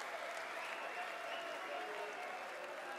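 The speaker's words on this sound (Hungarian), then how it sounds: "Nagy tapsot kap Dimitri Van den Berg." A darts crowd at the German Darts Open semi-final applauds Dimitri Van den Bergh, a steady, distant wash of clapping from the arena audience with no clear individual claps standing out.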